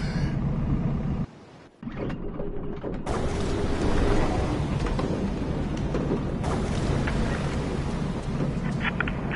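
A thunderstorm rages in the VR game A Fisherman's Tale: a dense, roaring wash of rain and wind with rumbling thunder, a brief dip near the start, then a sustained loud downpour with no talking.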